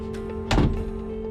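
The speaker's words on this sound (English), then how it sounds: "They both left the room and closed the door behind them." A door closing with a single muffled thunk over a steady hum, close and brief, with no voices.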